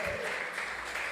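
A church congregation at a Spanish-language worship service claps together in a dense, continuous wash of applause, loud and close, with voices faintly mixed in.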